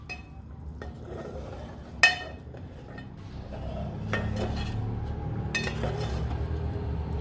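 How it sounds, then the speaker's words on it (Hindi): A spoon scraping and clinking against a cooking pot while flour paste is stirred into chicken korma, with soft intermittent clinks over a low, steady kitchen hum. "अब इसको आहिस्ता आहिस्ता डालेंगे साथ साथ, और साथ साथ चम्मच हिलाते रहेंगे।"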